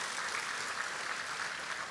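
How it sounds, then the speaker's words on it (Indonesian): A church congregation at an evangelistic service applauds, producing a continuous, even roar of many hands clapping at moderate volume with no pauses. "Tepuk tangan Tuhan Yesus."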